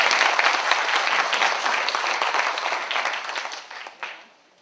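Sustained audience applause fills a party campaign rally in Andong, a dense steady clapping from a large crowd that holds strong for several seconds, then thins and tapers off near the end.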